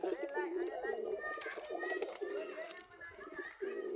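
Crested pigeons coo repeatedly in low, throaty bursts, close by, with a person talking over them.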